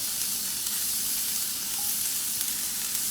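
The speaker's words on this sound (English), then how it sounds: "I'm going to put in a couple of our spears of asparagus." Asparagus spears sear in a hot pan, giving a steady, close, even sizzle and hiss that runs unbroken throughout with no talking.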